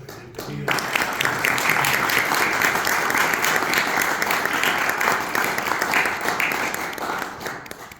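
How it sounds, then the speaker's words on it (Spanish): A dense, loud round of applause from a university conference audience welcoming a judge, building quickly and holding steady for several seconds before tapering off. "les rogaría que le tributemos un aplauso de bienvenida"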